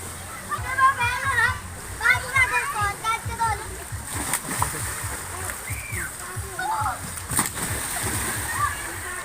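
People splash and play in water outdoors, with repeated sloshing splashes and excited voices and children's chatter mixing over a constant watery background.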